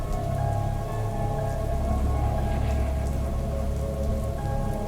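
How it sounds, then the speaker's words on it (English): Heavy nighttime rain pouring steadily onto surfaces, a dense continuous patter close by, with a faint low rumble of thunder underneath and no voices. "It was pouring rain all night with lightning and thunder here and there."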